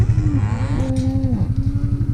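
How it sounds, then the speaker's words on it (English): A dairy cow in a farm pen moos with a long, drawn-out low call that rises and falls, close and loud over steady background engine rumble. "we've got a cow that's calved in here"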